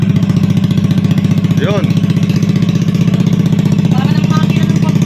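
A motorcycle engine idles steadily and loudly close by with a throbbing, chugging rhythm like a boat motor; a person's voice briefly cuts in over it.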